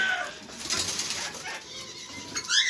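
Parrots in an aviary chirp and squawk in short bursts, with a soft flutter of wings and a sharper call near the end.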